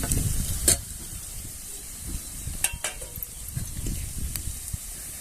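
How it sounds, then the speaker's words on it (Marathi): Onion frying in a pan with red chilli powder and turmeric gives a soft, continuous sizzle broken by a few sharp spatula scrapes and taps, close and steady, with no voices. "चांगलं परतून घेऊया कांदा छान परतून झालेला आहे"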